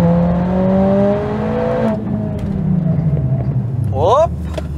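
Mercedes-AMG A45 S with a 2-litre engine pulling hard on a track lap on Pirelli tyres, a loud, rising engine note that climbs steadily through the first two seconds, then a gear change and renewed acceleration, with a voice talking over it.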